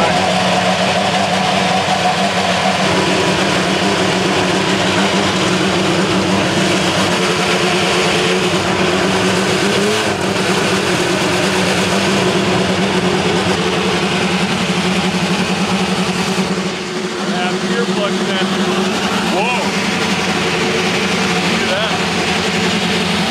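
An Indy car race engine runs inside a garage, a loud, steady engine drone with fluctuating revs filling the space while voices talk over it.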